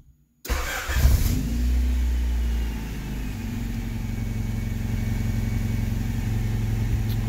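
A Honda Civic running a chipped P28 ECU cranks, fires up and settles into a steady, even idle, loud and close with no talking.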